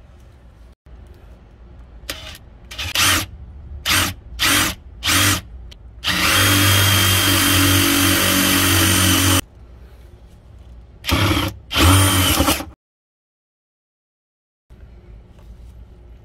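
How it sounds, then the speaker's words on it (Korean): A power drill with a thin bit bores bolt holes through a camper van floor for a 70-litre Fiamma water tank. It whines in a string of short bursts, then runs in one long steady stretch, then gives two more brief runs before going quiet. "먼저 얇은 드릴로 먼저 구멍을 내고요"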